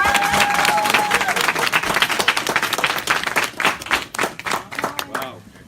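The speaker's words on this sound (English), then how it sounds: "I would like to get you guys all to just give this gentleman a round of applause" An audience claps warmly for a gentleman at a Super Saturday event in Chicago, dense applause that gradually thins into scattered claps before fading out, with a voice heard briefly at the start.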